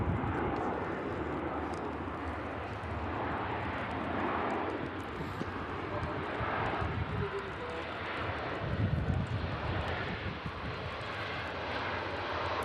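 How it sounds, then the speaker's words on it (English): A Turkish Airlines Airbus A321 arrives on runway 23 right at Manchester Airport, its broad jet roar steady and fairly loud throughout, with a faint voice over the engine noise. "Turkish A321 just arriving in on 23 right."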